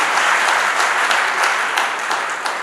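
An audience at an inauguration ceremony for a deputy commissioners' event applauds, a dense, steady round of clapping from many hands that fills the room without pause.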